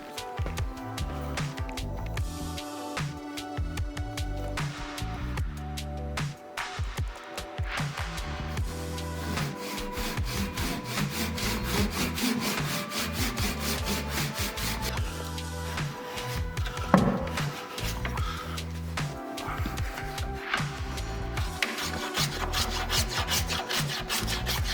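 Hand sawing through wood in a boat-building workshop, a steady back-and-forth rasping stroke that runs nearly continuously, close and fairly loud, with a brief sharp knock partway through.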